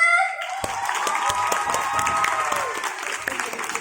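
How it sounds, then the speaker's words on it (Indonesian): Audience applause at a school drama show, a steady wash of clapping from a crowd that swells in quickly and holds, with a voice and some musical tones running over it. "Penonton! Oi penonton! Penasaran gak nih? Tepuk tangannya mana?"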